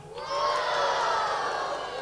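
An audience at a Swedish TV show cheering loudly, a roaring crowd of shouts and whoops that rises quickly and holds at full volume.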